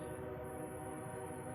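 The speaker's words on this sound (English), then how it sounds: "Trains are still going." Trains rumble past as a steady, continuous low roar with a sustained horn-like tone over it, constant in level throughout.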